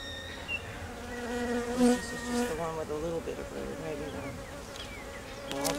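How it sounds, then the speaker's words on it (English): A dense, steady hum of many honey bees buzzing close by around a hive, with overlapping whining tones rising and falling as they swarm. "That's how we hive the bees."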